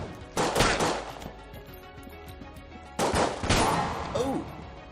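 A 1911 pistol fires in Enter the Gungeon, two distinct clusters of sharp shots with short bursts of game effects over a low background of music.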